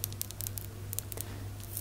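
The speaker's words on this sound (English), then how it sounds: "Some plastic bags, which sound great." Crinkly plastic bags rustle in short bursts of crackling in an Egyptian souvenir store, with a steady low hum underneath and no talking.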